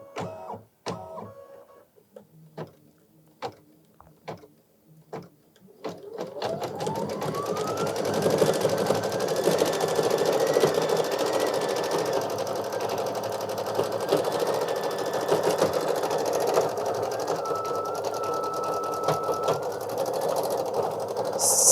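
An embroidery machine stitches a flower design on a mug rug, opening with a few sparse clicks before settling into a loud, steady whirring hum with a rising motor whine, close and continuous to the end.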